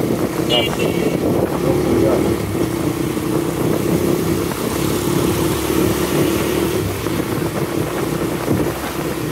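A motorcycle engine hums steadily while riding slowly, with rushing wind noise across the microphone for the whole stretch.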